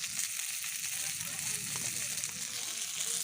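Small puti fish sizzle steadily in hot oil, a dense crackling hiss that holds close and even from start to finish, with low bubbling underneath.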